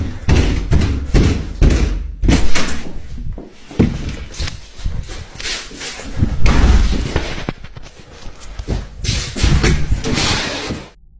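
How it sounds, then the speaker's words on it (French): Heavy knocking and banging on a door at night, repeated loud thuds and slams in irregular bursts over about eleven seconds, close and booming. "On peut entendre quelque chose toquer assez fort."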